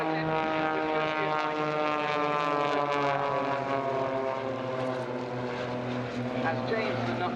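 Blades display team propeller aircraft fly barrel rolls at RIAT, their engines droning steadily and close in a sustained tone with a shifting pitch. A commentator talks over the engine noise throughout.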